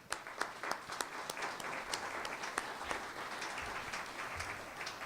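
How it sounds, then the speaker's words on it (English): A crowd applauds after a speech honoring an individual: dense, steady clapping from many hands, heard from a moderate distance at even volume throughout with no voices over it. "Let's give him an applause."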